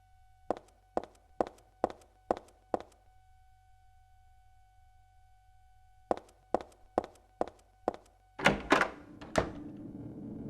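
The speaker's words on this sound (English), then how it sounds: "Back in the hallway, we'll hear sounds of crying and footsteps." Footsteps sound in a hallway in the Silent Hill 3 video game: two runs of six evenly spaced hard thuds separated by a silent gap, then heavier knocks and a burst of noise at the end.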